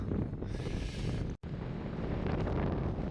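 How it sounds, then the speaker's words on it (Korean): Steady, broadband wind rushing and buffeting against the microphone outdoors, with a brief dropout midway before the gusty roar resumes. "바람 소리도 들리고 나쁘지 않아"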